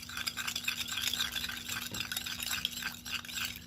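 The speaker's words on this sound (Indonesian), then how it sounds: "Kita aduk." Instant yeast and sugar being stirred into roughly 160 cc of warm water for bun dough, a steady run of soft, close scraping and swishing strokes in a quick repeating rhythm, with no voices.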